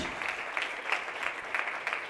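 Audience applause at a motivational talk, a steady, moderately loud clatter of many hands clapping throughout, with small swells but no voices over it.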